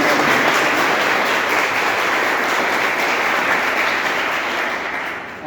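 Students at a school event in Sangaria give guests sustained, dense applause that holds steady for the whole stretch and fades slightly at the end.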